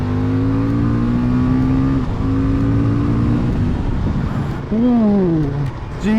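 A Husqvarna Vitpilen 701 single-cylinder motorcycle engine accelerating on the road, its pitch climbing steadily, dropping at a gear change and rising again, loud and close with wind rush, ridden into a corner.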